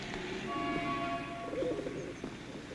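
Pigeons coo softly in a low, warbling burble, faint against a steady background hum with a few thin tonal lines overhead.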